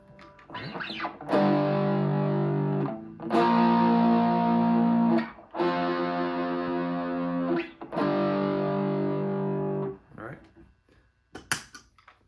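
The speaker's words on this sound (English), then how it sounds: "He puts distortion onto that part." Distorted electric guitar plays four sustained, buzzing chords from a song with short gaps between them, loud and thick, then fades out.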